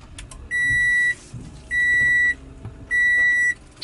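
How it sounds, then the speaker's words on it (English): A 2012 Toyota Camry XLE powers up with three evenly spaced electronic beeps, each lasting over half a second, over a low background hum inside the car. "we're going to start the car, foot on the brake, power it up"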